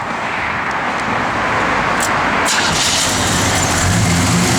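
A 1971 Chevrolet Monte Carlo sits idling with a loud, steady engine rumble close by, running evenly for the whole stretch without words.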